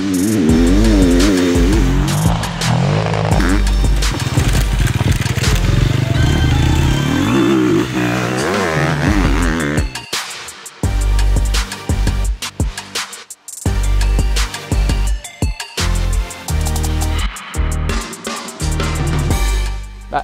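A Sherco 250 four-stroke enduro motorcycle is ridden hard and close, its engine revving up and down through repeated loud accelerations with a few sharp drops in sound.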